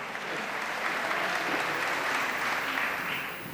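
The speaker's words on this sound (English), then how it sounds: "That question deserves applause." Audience applause at a political town hall, steady dense clapping throughout, loud and close, with no speech over it.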